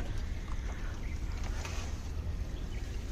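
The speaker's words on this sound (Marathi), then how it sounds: "पाठीमागे इंजिन आहे मॅन्युअल इंजिन." A manual engine drones behind a small boat on a river during crab fishing, a steady low hum mixed with wind and water noise, with no voices.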